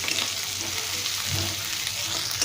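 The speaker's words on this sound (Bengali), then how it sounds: "পেঁয়াজগুলো ভালো করে ভেজে নেব।" Chopped onions frying in oil in a kadai for a Bengali aloo potol dum, a dense continuous sizzle held at an even level throughout, close and alone.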